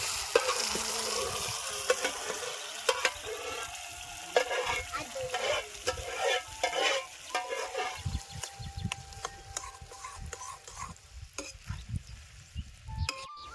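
Mustard greens stirred into a sizzling tempering in a pan during village cooking, with a steady frying hiss and repeated scraping, clattering stirs throughout, close and moderately loud.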